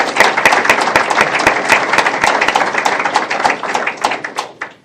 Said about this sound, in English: if I could ask you just to express your thanks and congratulations with a round of applause